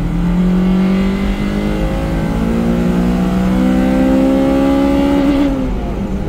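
A Honda Civic EJ1 race car engine, built for the N24, revs hard while driving, with rising harmonic sweeps as it pulls through the gears and a brief dip at a shift. The engine is loud and close, with no talk over it.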